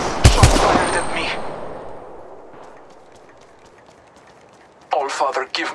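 Gunfire from Apex Legends Mobile: a loud, close burst of rapid shots at the start fading into a decaying rumble, with a voice speaking near the end.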